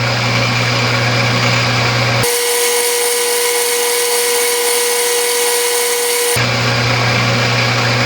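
A lathe runs while a thread is tapped into a compound slide leadscrew nut, giving a steady, loud mechanical whir that shifts to a lower, smoother tone midway before returning.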